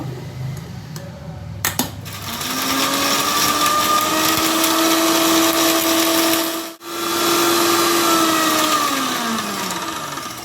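A kitchen blender whirs up loudly after a couple of light clicks, grinding cashews and yogurt into a fine paste. It runs steadily, cuts out for a split second, then roars on before winding down.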